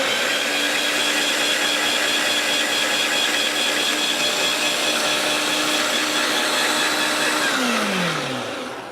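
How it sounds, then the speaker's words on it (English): An electric spiralizer machine cuts an apple into spirals with a loud, continuous motor whine and grinding hum, running steady and close before the pitch sinks and the sound fades as the motor winds down at the end. "it basically just spiralizes our apple into cute little twirls of apple"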